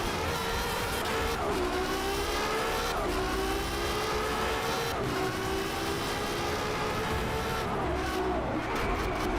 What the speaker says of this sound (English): it's probably because this car is extremely loud